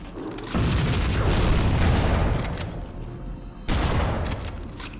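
A sustained barrage of booming gunfire in the video game Halo, dense and loud, cuts off briefly and then resumes abruptly with another heavy burst.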